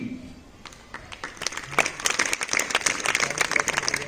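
An audience applauds children at a school prize announcement. The clapping starts sparse, then swells into dense, lively applause that holds to the end, with a voice faintly underneath.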